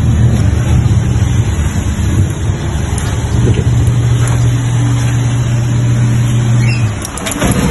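A Griffin 180i motorcycle engine idles on its side stand with a steady, close mechanical drone that holds for several seconds, wavers briefly, then settles again before dropping off at the end.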